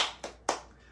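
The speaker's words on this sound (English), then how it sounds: "That was a clap, actually." Two sharp, close hand claps in quick succession, the second slightly louder, in a quiet room with no talking.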